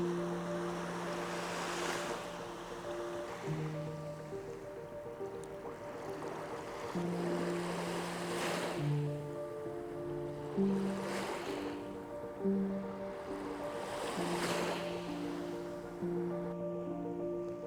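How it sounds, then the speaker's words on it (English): Sea waves breaking where a stream meets the sea, several slow swells of surf rising and falling at moderate distance, layered under soft sustained music and light wind. "I'm gonna go and have a look where the stream meets the sea."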